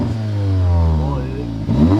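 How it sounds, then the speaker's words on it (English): Audi S3 with its diverter valve removed, revved a couple of times: a loud, close engine swelling and falling, with a fresh blip near the end; a voice is partly mixed in. "I am gonna give it a couple revs."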